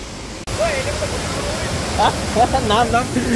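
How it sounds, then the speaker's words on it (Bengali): A steady roar of rushing water from a waterfall at the Rock Garden in Darjeeling fills the scene while a person talks over it. "আর ঝর্ণার যা সাউন্ড আসছে"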